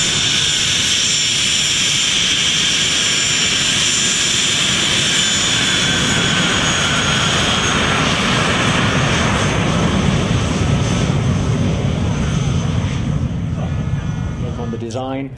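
A Jet Provost T5 jet trainer roars past at an air show, a loud, steady jet whine and rumble sustained throughout, with a commentator's voice faintly underneath.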